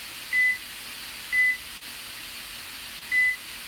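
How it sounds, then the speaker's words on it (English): Three short, clear electronic beeps sound from a kitchen timer being set, spaced about a second apart over a quiet room hum. "I'm going to set this timer here."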